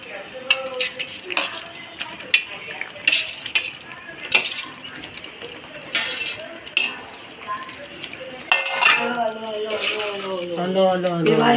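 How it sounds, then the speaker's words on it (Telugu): Boiled raw prawns are tipped into a pan of okra curry, bringing clinks of utensils against the pan and stirring scrapes, sometimes sharp and sometimes soft, under ongoing talk. "ముందుగా మనం ఉడకబెట్టి పక్కన పెట్టుకున్న పచ్చి రొయ్యలు అనేవి కూడా వేసేసుకుందామండి"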